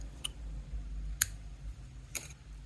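Small scissors snipping crochet thread: three quick, faint, crisp clicks spaced about a second apart over a quiet low hum.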